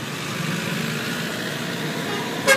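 Busy Lima street traffic rumbles steadily close by, engines droning, until a single short car horn toot cuts in near the end.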